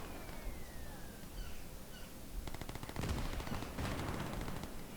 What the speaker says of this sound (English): Oh no, we're getting shot at